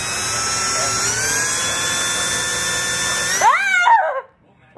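A power drill runs at a steady high whine close by, then winds down sharply with a falling pitch before cutting to near silence.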